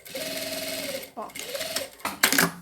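A sewing machine stitches a bag lining right beside zipper teeth in a rapid, steady mechanical whir that pauses briefly and restarts, heard close and loud while a voice talks over it.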